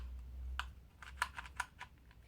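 A speed cube with loose magnets is turned, making faint, quick clicky rattles in a short irregular burst against a quiet low background.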